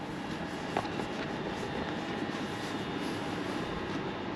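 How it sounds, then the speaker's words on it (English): A Southeastern train pulls out of Ramsgate Depot heading north toward Margate, heard as a steady broadband rumble and drone from some distance. It stays at an even level throughout, with no voices. "the train heading over there is coming out of Ramsgate Depot, and is heading north towards Margate"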